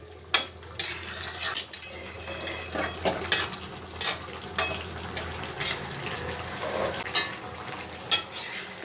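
A milk-based vegetarian mixture cooking in a pan over a high gas flame, with soft bubbling under repeated spoon scrapes and clinks against the pan at a steady pace.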